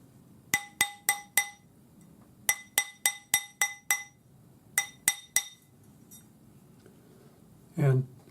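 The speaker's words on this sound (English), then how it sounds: "And I'm just hammering my ring to the point that I'd marked earlier." A jeweler's hammer strikes a metal spiral ring in quick bright clinks, grouped in bursts of three to six ringing taps with short pauses, then a brief scrape near the end, no talking.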